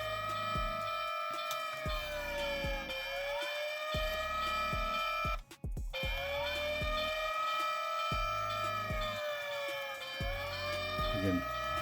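An electronic siren from an Operation Overdrive Flash Point Megazord toy wails up and down twice with steady tonal beeping, loud and close, briefly cutting out midway.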